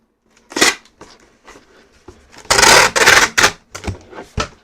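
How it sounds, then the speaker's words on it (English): Packing tape ripped off a roll to seal a shoe box, with a couple of short tears followed by a long, loud, raspy pull and a few quick strips, close by and without talk. "Try to hold this away from me a little bit so the tape isn't so loud."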